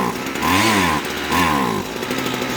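A Husqvarna hedge trimmer that runs only on choke, with a carburetor and fuel line fault, idles roughly. Its small two-stroke engine hums steadily, surging and dipping twice, close and fairly loud.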